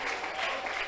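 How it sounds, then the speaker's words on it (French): Applause from a church congregation during a French-language worship service, a dense, steady clatter of clapping that fills the short moment without a break. "Acclamez pour le Saint-Esprit"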